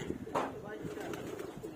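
Pigeons coo softly in a loft where young birds have just been added, a low throaty murmur with a brief louder call early on, against some background noise.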